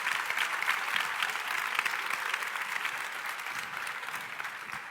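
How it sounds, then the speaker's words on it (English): Audience applause fills a grand final event, a steady, dense wash of clapping that holds evenly loud throughout and fades slightly toward the end, with no voices over it. "let's give them a round of applause once more."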